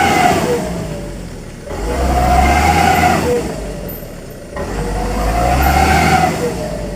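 A truck stuck in mud in the middle of a palm oil plantation revs its engine hard in two long, loud surges separated by a brief dip, with no talking.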